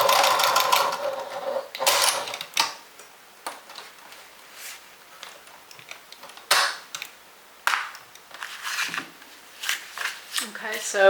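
A sewing machine stitches the pockets of a fabric makeup and toiletry bag in short, intermittent bursts of rapid mechanical whirring, separated by pauses filled with handling and clicks, nearby and moderately loud.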